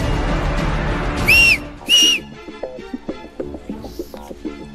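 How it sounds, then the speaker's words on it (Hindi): Two sharp, shrill whistle blasts ring out close and loud, each about a quarter second long, over a dense music bed that gives way to punchy rhythmic hits afterward. "कितनी सीटी बजा ले"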